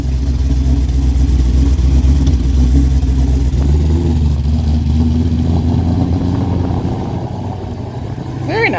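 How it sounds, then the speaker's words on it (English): Cammed Ford Mustang with a Coyote V8 making over 800 rear-wheel horsepower and running a lope tune, driven on the road with a loud, deep, choppy rumble that holds steady throughout and eases slightly near the end. "So here I am driving around with a lope tune."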